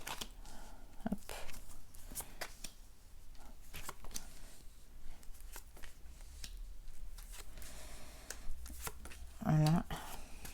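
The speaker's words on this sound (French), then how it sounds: "je vais installer toutes les cartes" Tarot cards being shuffled and laid out one by one on a surface: a series of soft, sharp flicks and taps spread irregularly through the passage, fairly quiet, with a person speaking between them.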